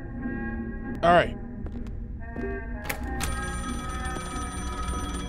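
In a video game set in the afterlife, a telephone rings once with a short, loud bell burst over a steady droning game soundtrack, followed by softer electronic tones.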